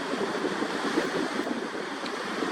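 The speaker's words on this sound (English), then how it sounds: "areas that have smaller waves like this" Small ocean waves at a surfing beach make a steady, soft broadband wash of surf with no distinct breaks, fairly faint and continuous throughout, with no one talking.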